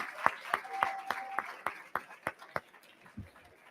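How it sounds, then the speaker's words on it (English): Sparse, faint clapping from an audience at a healthcare awards ceremony honoring its honorees, a few distinct claps in an uneven rhythm that thin out, heard at a distance with no talk. "A big round of applause for everybody."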